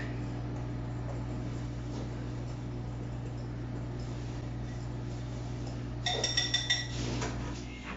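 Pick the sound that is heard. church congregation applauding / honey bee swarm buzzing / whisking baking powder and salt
whisking baking powder and salt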